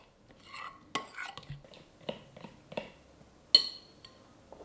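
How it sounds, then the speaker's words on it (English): A spoon stirs red food colouring into a coconut ice mixture in a bowl, giving a series of irregular scraping clinks against the bowl, fairly close and moderate in volume, with one sharper clink near the end. "In one of those bowls, I'm going to mix a good couple of drops of red food colouring in."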